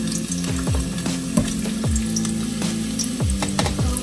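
Ginger and garlic fry in hot oil with a steady close sizzle, while a utensil scrapes and taps the pan in quick repeated strokes.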